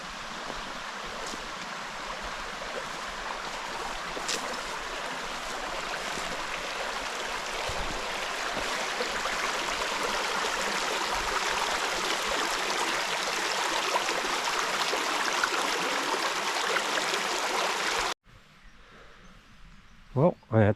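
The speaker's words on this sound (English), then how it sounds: "Little stream." A little forest stream in the Belgian Ardennes runs with a steady, broad rush of flowing water, close and continuous, before cutting off abruptly near the end.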